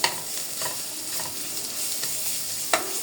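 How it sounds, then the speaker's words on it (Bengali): Chopped onion and garlic hiss in hot oil while a utensil stirs them in several scraping strokes against the pan, close and steady, with a sharp knock near the end. "তেলটা গরম হয়ে গিয়েছে এবার দিয়ে দিচ্ছি একটি পেঁয়াজ কুচি ও দুটুকরো রসুন কুচি পেঁয়াজ ও রসুনটাকে নাড়াচাড়া দিয়ে মিশিয়ে নিচ্ছি"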